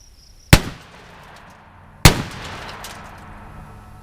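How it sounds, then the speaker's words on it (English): A 12-gauge shotgun loaded with double-aught buckshot fires twice at a washing machine, each a sharp, loud outdoor blast followed by a ringing decay, spaced about a second and a half apart. "Let's see how it stands up versus the 12-gauge shotgun loaded with double-aught buck."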